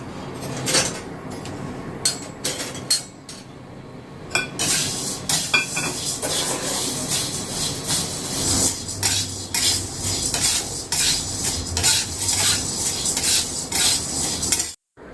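Arhar dal dry-roasting in a kadhai over medium heat, a utensil repeatedly scraping and clinking against the metal pan in irregular bursts, with grains rustling and a faint sizzle beneath, close and without talking.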